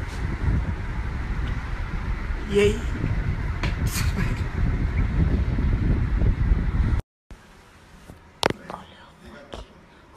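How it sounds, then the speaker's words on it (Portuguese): Strong wind gusts buffet the microphone outdoors, making a loud, continuous low rumble for about seven seconds before it cuts out abruptly, followed by quieter background noise and a brief spoken voice. "É muito vento."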